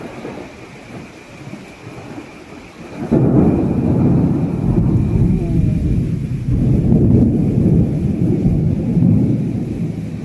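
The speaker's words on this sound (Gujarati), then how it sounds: "રાતના 2:30 વાગ્યા છે અને બહાર એટલો વરસાદ આવે છે ને" Heavy nighttime rain pours down in Surat with thunder rumbling, starting quieter and then swelling into a loud, steady roar of rain from about three seconds on, with no talk.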